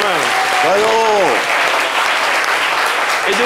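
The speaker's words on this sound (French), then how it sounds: "Applaudissez la Côte d'Ivoire." Loud, sustained applause from a studio audience on a French-language talk show, a thick wash of clapping with a voice speaking briefly over it at the start.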